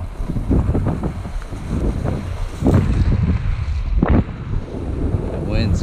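Strong wind buffets a microphone out on a frozen stretch of Lake Ontario shoreline ice, producing loud rumbling gusts that rise and fall throughout with no break.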